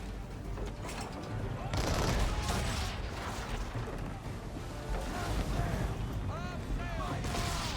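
Cannon fire aboard the ship Belladonna in the video game Assassin's Creed III, with booming volleys and rumbling blasts mixed into a dense battle din, along with shouting voices and creaking, whistling effects.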